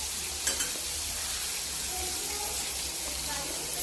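A garlic, coriander and green chilli paste sautéing in a pan gives a steady, moderately loud sizzle with a few faint stirring scrapes and a brief knock near the start.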